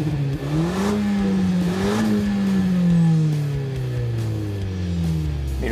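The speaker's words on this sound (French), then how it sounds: "la voiture rétrograde aussitôt qu'elle le peut plusieurs rapports" A Renault Mégane GT engine revs and drops through gears while downshifting, its tone climbing and falling in a series of sweeping pitch changes, close and loud with no talk.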